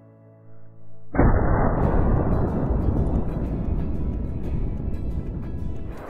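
A single heavy rifle shot in the hunting video game Call of the Wild, a sudden loud boom that rolls into a long rumbling echo lasting several seconds, with no talk.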